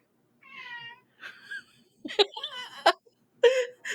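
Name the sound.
cat meowing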